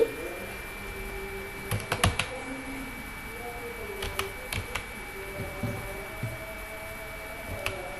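Keys tap on a computer keyboard while typing text in Microsoft Word, coming in short irregular bursts of clattering keystrokes with pauses between, close up over a steady low background hum.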